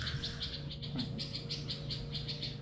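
Birds chirp outside in quick, evenly repeated high tweets, faint and a little distant, over a low steady background hum.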